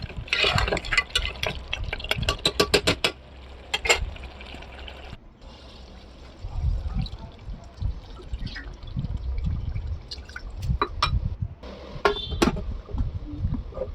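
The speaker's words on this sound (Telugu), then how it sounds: "ఆ టీ గ్లాస్ తోటి రెండు గ్లాసుల వాటర్ ఇందులో వేసుకొని" Water is poured into a pressure cooker of mutton for curry: a few sharp clicks, then an uneven gurgling, splashing flow that rises and falls over several seconds, close by with no talk.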